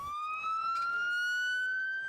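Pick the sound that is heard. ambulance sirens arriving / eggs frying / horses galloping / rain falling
ambulance sirens arriving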